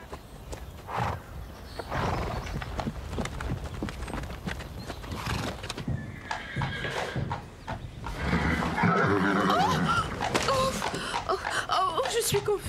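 Hooves clop and a horse whinnies in a French-dubbed cartoon, layered under busy voices talking, with the hoofbeats and neighing rising in intensity toward the end.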